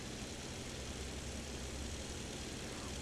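A Bf 109K fighter's piston engine in the DCS flight simulator drones steadily as it revs up before takeoff, a dense, even roar with no distinct pulses, moderately loud and unbroken.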